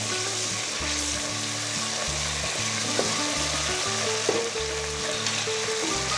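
Ginger paste and tomato paste fry in a pan for dhaba-style chole, a steady close sizzle running throughout with a couple of brief stirring clinks and a low background hum, no talking.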